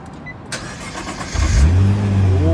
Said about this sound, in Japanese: これがエンジンのスタートボタンです。